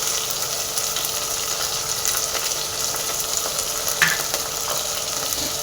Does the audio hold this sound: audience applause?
no